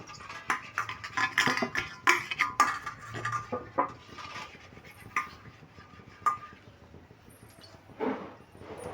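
Someone handles an oiled perforated metal plate and sets it over a pot of boiling water for steaming banana-flower curry. Sharp metallic clanks and scrapes come close and irregular, clustered early and then spaced out.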